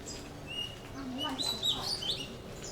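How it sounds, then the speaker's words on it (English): Small birds chirp in short high tweets on a quiet Bangkok side street, faint and scattered over low background hum, with a person talking nearby. "So peaceful, you can actually hear the birds."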